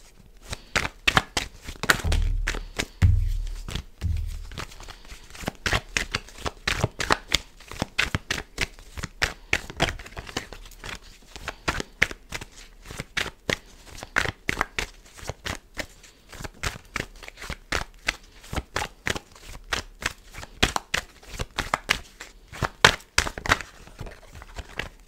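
Tarot cards being shuffled for a reading, with a quick, steady run of crisp snaps and riffles continuing close and fairly quiet throughout, and no talking.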